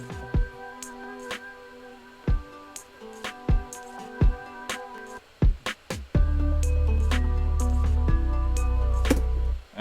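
A remixed song built on a chopped, pitch-shifted flamenco sample plays sharp plucked hits in an uneven rhythm, then opens into a sustained, bass-heavy section with layered tones.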